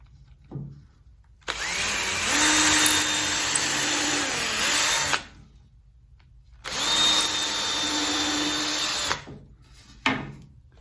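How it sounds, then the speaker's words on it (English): A power drill whirs steadily through wooden plant stand frame parts in two long bursts, each about four seconds, separated by a pause, loud and close. "I got a mark here and here that I can now drill out"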